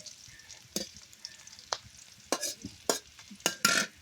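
Liver frying in a pan in a village kitchen, stirred with a utensil: a steady low sizzle runs throughout, broken by several sharp scraping stir strokes that grow busier toward the end, with no talking.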